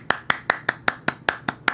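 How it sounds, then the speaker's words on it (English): Hand claps in the video game Cooking Companions, nine sharp, evenly spaced claps in a steady rhythm, fairly close and clear with nothing else over them. "I clap."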